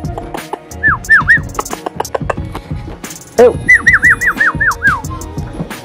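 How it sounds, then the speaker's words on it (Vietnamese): A H'Mong bobtail dog whimpers in short rising whines, with a few quick bursts at first and then a longer string, set against thumps and background noise outdoors in a village. "Thì chó rất đẹp, rất là ngoan luôn, rất là khôn luôn."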